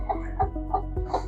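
Free range chickens cluck in short repeated bursts, roughly four soft calls spaced evenly over a steady low hum, close by.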